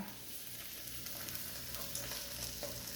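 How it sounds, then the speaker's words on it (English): Tomato sauce sizzles steadily in a hot pan, a continuous crackling hiss with small pops, fairly quiet and close, with no voices. "Hear it sizzling?"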